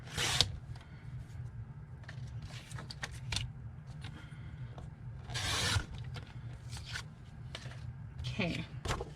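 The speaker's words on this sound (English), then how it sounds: "Just trim off the messy edges" Paper edges being trimmed for a Where the Wild Things Are journal, heard as scattered short rasping and rubbing cuts, fairly close, with a low steady background hum and no talk.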